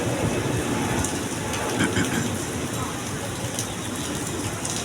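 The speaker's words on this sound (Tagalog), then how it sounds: "Oh, may bagyo." Heavy storm rain pours in a steady, dense hiss with no letup, loud and close, while voices talk faintly underneath.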